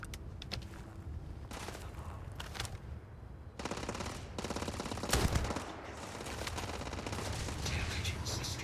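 Gunfire in the video game Starfield: sustained rapid machine-gun bursts rattling almost continuously, close and loud, with a heavier blast near the middle over a dense game soundscape.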